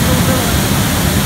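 Ozar Kada waterfall near Rajapur in the Konkan gives a brief, loud, even rush of falling water, a dense hiss with no clear break.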